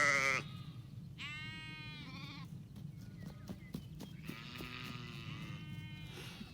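Several sheep in a growing flock of about 300 breeding ewes bleat on a farm, with overlapping calls near and farther off over steady outdoor background noise.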